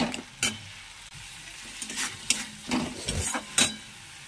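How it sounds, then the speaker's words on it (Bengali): Spices being stir-fried with a fried fish head in a pan, with a steady sizzle punctuated by several scraping stirs of the spoon, close and moderately loud, no talking. "ভালো করে মশলাটা কষাবো।"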